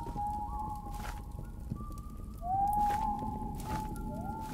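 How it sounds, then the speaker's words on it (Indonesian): Thin, wavering whistle tones from the train monster in the video game Choo Choo Charles drift in and out over a low background, a few sustained eerie notes, one rising and louder near the middle. "Suara siulan-siulannya."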